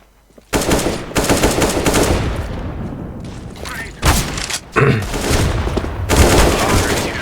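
Counter-Strike: Global Offensive gunfire in loud, rapid automatic bursts, broken by short pauses and a few heavy thumps, with people talking over the shooting.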